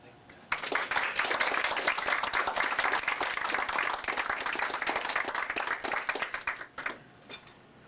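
Sustained audience applause at a partner roast breaks out suddenly and fills the room with dense, even clapping for about six seconds before tapering off in a few scattered claps.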